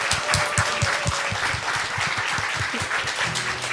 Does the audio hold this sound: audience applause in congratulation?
yes